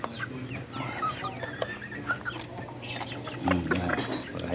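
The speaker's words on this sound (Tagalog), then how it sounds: "papakain ko sa alaga kong manok" A pet chicken clucks in repeated short bursts while being fed, close by, with soft rustling and scattered clicks around it and a few quiet human sounds mixed in.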